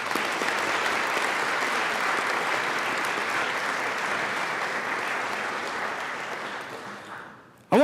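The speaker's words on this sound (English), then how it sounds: "Let's give another round of applause for the family members here in attendance" Legislators and guests in a state House chamber applauding for family members, a steady, full round of clapping that fades out near the end before a sudden sharp sound.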